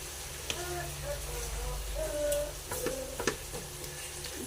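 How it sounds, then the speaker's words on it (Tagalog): Food being sautéed in a pan, a steady close sizzle with occasional sharp clinks and scrapes of a utensil stirring, faint voices murmuring in the background. "Gisa lang natin siya."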